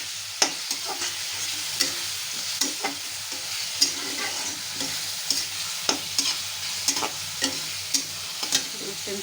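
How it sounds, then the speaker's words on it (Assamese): Ginger, garlic and chili paste sizzles and fries in a small amount of oil, with steady frying hiss and repeated sharp scrapes of a stirring spoon against the pan. "এতিয়া ইয়াতে দিম মই আদা, নহৰু আৰু জলকীয়াৰ পেষ্টখিনি। এইখিনি ভাজি ল'ব লাগিব আৰু ভালকৈ।"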